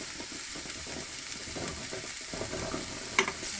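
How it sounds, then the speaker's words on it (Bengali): Gram (chickpea) leaves tossed with salt and turmeric in a pan: soft, steady frying hiss with light scraping stir strokes throughout, a sharper clink near the end. "এখন আমি একটা মিক্সড করে দেব।"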